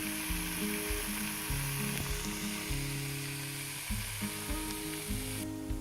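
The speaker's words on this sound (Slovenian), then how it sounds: "Vse skupaj še sotiramo približno 10 minut." Onion and grated apple sautéing in a pan for onion soup, a steady loud sizzle with occasional stirring scrapes throughout.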